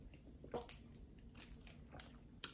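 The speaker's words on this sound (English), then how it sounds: "I'm trying to chew it and I feel like it's sucking all of the moisture out of my mouth" Close, quiet chewing of a McDonald's crispy chicken sandwich, dry, with soft crunches and wet squishy bites coming in irregular bursts, no talking.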